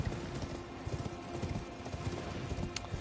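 Horse hooves galloping in Elden Ring, a fast steady clip-clop rhythm of the mount running, loud and close, with a brief game sound near the end.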